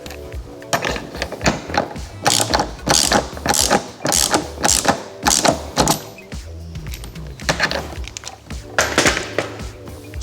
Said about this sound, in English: All I'm going to do is use a 22mm socket.